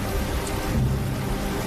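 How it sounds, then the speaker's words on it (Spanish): Steady rain falls in a Spanish-dubbed Nicolas Cage revenge film, a constant wash of noise with no voices over it. "¿Quieres que salga con esta lluvia?"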